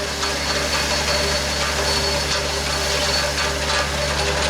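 A tractor engine idles during hay mowing, a steady close drone with a low mechanical hum and faint rattling vibration. The sound holds constant throughout and no one speaks.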